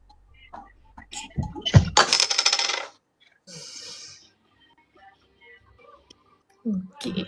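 Coins drop and clatter in a loud, jangling burst near the start, with scattered metallic clinks and faint breathing or low voices around it, followed by quieter pauses.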